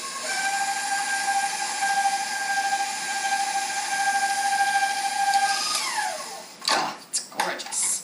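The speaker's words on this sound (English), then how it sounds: "I'll just add that while I mix the icing." A stand mixer whines steadily as it beats honey walnut torte icing, with ground walnuts and icing sugar added. The motor pitch drops as it winds down near the end, followed by a few louder clatters.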